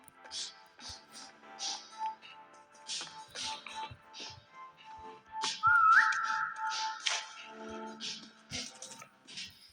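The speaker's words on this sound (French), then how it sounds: "Vas-y, je siffle. On siffle." A player whistles over voice chat during an online SCP-3008 game session among friends, a short rising whistle amid clicky keyboard noise and background chatter.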